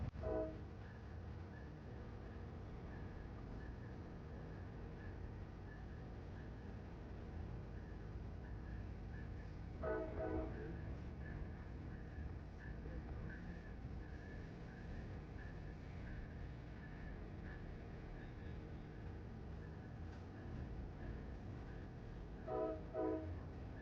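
Amtrak Pacific Surfliner passenger train running along the Pacific coast, a steady rumble of wheels and carriage noise throughout, with two brief horn-like tonal bursts partway through and near the end.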